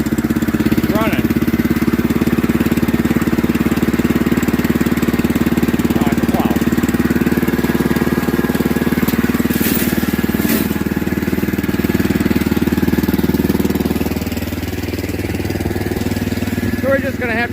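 A 1983 Power King garden tractor engine idles steadily and loud up close for the whole stretch, with a slight dip in level near the end; someone speaks briefly over it.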